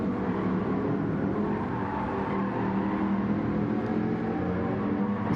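Race cars in Gran Turismo 7 roaring down the Kemmel Straight at Spa-Francorchamps, a dense, sustained engine drone at steady loudness with no pauses, no voices.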